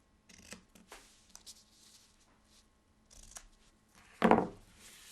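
Scissors trim the ends of a ribbon bow on a handmade card, with a single crisp, close snip after a few soft rustles of handling.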